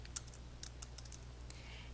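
Quiet, scattered keystrokes on a computer keyboard while entering a caption into a database field, a few sharp clicks spread over a couple of seconds against a steady low hum.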